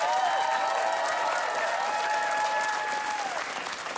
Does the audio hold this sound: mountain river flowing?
no